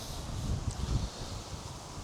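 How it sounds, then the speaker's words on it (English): Wind blows across an open outdoor spot in Morzine, a steady low rumble and buffeting on the microphone with faint rustling, no voices. "It is very windy though."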